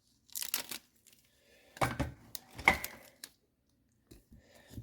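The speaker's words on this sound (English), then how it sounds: "So I'll just put a little bit of tape on each end so it doesn't pop off" Strips of tape ripped off a roll during a Toyota Estima hybrid battery repair, a few short tearing bursts close by separated by pauses, with faint handling noise between them.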